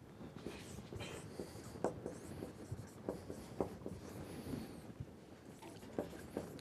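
A lecturer writes on a board in a quiet classroom, chalk or marker producing faint, irregular taps and scrapes in short strokes, with soft room noise and no speech.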